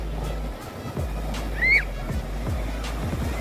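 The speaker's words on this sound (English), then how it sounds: "Look at the waves." Ocean waves wash onto a beach with a steady surf roar and low wind rumble, while a brief chirp rises over it.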